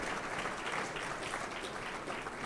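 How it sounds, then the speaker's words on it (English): Sustained audience applause, many hands clapping steadily in a large room, without pause. "give them a round of applause for getting us to the point where we are now"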